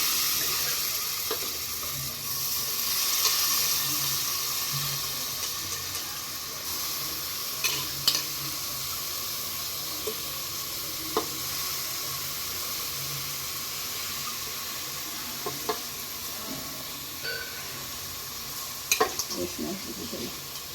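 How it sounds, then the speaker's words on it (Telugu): A glass of washed rice mixed with roasted moong dal is fried in oil in a pan and stirred. A steady sizzle runs throughout with occasional scrapes and clicks of the spoon. "ఒక గ్లాసు రైస్ ఇట్లా నూనెలో రైస్ వేసుకోండి."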